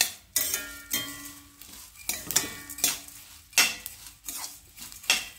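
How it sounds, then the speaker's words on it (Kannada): Curry leaves and spices dry-roasting in a pan for sambar powder, with repeated metallic scrapes and clinks of a spoon stirring against the pan in an uneven rhythm. "ನೋಡಿ ಈಗ ಕರಿಬೇವು ಸಹಿತ ಗರಿ ಗರಿ ಆಗ್ತಾಯಿದೆ"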